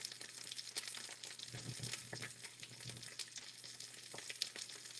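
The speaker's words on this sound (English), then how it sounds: "We're just looking to get a sear on it first." Beef short ribs sear in a hot pan before braising, giving a quiet, continuous crackling sizzle with scattered pops and occasional soft shifting, distant and low in level.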